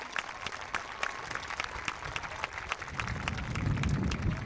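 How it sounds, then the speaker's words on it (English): An outdoor crowd at a Pony Baseball opening day claps for retiring board members, a steady patter of many hands that swells slightly louder toward the end, with no talking. "Let's give them a round of applause."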